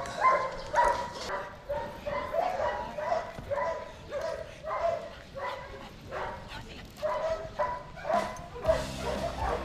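K-9 unit dogs bark repeatedly during a socialization session in quick, uneven bursts, mixed with high whimpers and yips, fairly close throughout.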